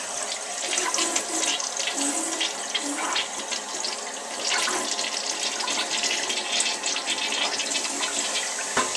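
A household toilet in a master bathroom flushes with a steady, loud rush of water lasting several seconds, close by and without speech.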